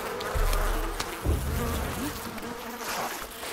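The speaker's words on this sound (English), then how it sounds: "I'm gonna just shoot these bees and see what happens." A swarm of bees in the video game Far Cry 5 gives a close, droning buzz with rising and falling hums and several louder swells, heard without speech.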